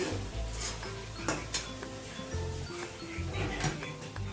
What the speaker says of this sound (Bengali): এরপর নেড়ে চেড়ে নিয়ে আমি নামিয়ে নেব